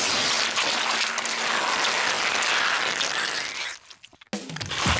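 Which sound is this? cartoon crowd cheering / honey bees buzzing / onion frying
cartoon crowd cheering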